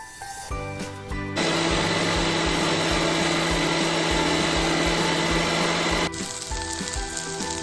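An electric mixer whirs steadily as it blends sandwich filling with sugar and pepper, a loud continuous motor drone that starts abruptly and cuts off after several seconds.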